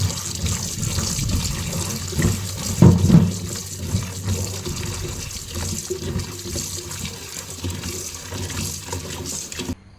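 Water runs steadily from a kitchen tap as pumpkin is washed in the sink, a continuous close splashing stream with a brief louder knock partway through.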